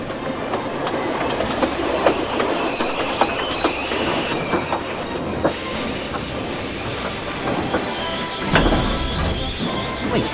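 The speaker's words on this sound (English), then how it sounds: "Edward began to climb the steep hill. However, he began to slip on the wet rails." A steam engine climbing a steep hill on wet rails, with loud rhythmic clickety-clack of wheels, metallic clanks and squealing as it slips, plus a heavy thump near the end, no talk over it.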